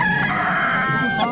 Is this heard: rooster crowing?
yes